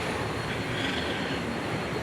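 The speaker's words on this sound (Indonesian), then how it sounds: "Kereta layang di situ." The elevated skytrain at Soekarno-Hatta airport passes with a steady rolling rumble and faint wheel squeal, heard alone with no talk.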